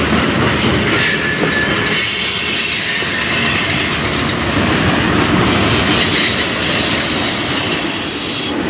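A freight train rumbles past steadily at night in Fostoria, Ohio, with a dense roar of wheels on rails, faint squeals and clatter, loud and continuous without any voices.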